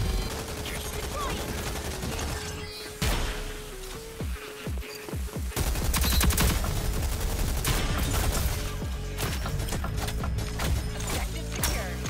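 Rapid bursts of automatic gunfire in the shooter game Rogue Company, loud and dense, with repeated volleys and brief pauses, under occasional player voices.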